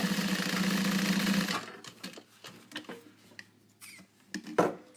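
A sewing machine stitches a pouch back panel with an eighth-inch seam allowance. A close, rapid mechanical whir runs for about a second and a half, then stops, leaving faint scattered clicks and handling sounds.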